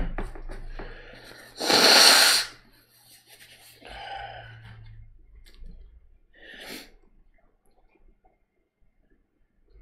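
One loud, explosive sneeze bursts out close to the microphone early on, followed by a couple of softer breathy snorts and sniffs in an otherwise quiet room during a livestream painting session, with no talking.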